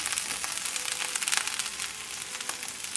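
Okra for a chicken sausage gumbo frying in hot oil, giving a steady, dense sizzle with scattered crackles and pops throughout, close and fairly loud with no voices.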